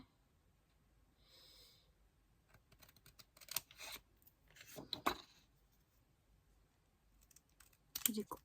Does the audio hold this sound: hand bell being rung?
no